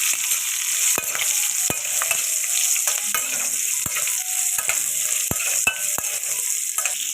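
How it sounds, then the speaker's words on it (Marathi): Stuffed green chillies stirred in hot oil after mustard seeds and asafoetida: a bright, steady hiss of frying with sharp spatula clicks and scrapes against the pan at irregular intervals, close by, with no speech. "आता आपण भरलेल्या मिरच्या त्याच्यामध्ये टाकून घेऊया।"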